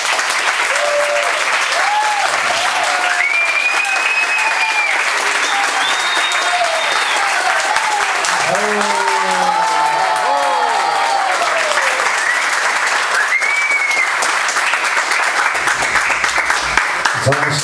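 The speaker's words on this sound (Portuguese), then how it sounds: "uma salva de palmas para o nosso irmão Robson." Sustained applause from an audience honouring a performer at a Krishna festival gathering, a dense continuous clapping wash with scattered cheers and voices mixed in, steady and loud throughout.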